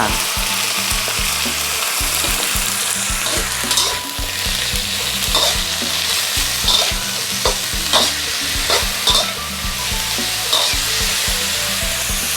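Pork liver stir-fries with sesame oil and shallots in a hot pan, a loud steady sizzle broken by repeated scraping stirs and clacks of the utensil throughout.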